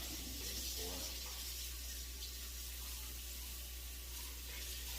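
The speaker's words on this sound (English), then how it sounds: "Let me go rinse this off real quick" Water runs from a kitchen tap in a steady hiss as something is rinsed off beneath it, with a constant low hum in the background.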